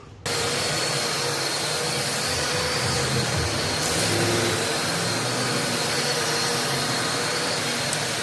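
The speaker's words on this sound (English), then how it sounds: "I'm gonna get ready to fire back up my machine and clean the rest of this floor" A carpet cleaning machine for tile and carpet fires up abruptly and runs as a steady, loud, continuous motor drone that holds nearly unchanged to the end.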